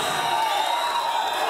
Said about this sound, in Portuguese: Agora vaias contra a não votação.